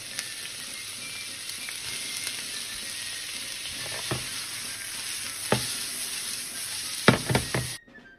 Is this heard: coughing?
no